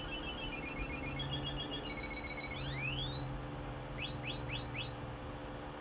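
Electronic tones from a Power Rangers titanium morpher toy: steady beeping alarm-like tones, then a rising swoop and a run of quick chirping sweeps, loud and close with a low hum underneath and no talk.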